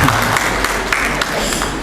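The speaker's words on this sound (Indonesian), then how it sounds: "Weh, tepuk tangan tidak dilarang." An audience claps throughout a school service-excellence workshop, a dense, steady patter of many hands, loud and close over a faint murmur of the crowd.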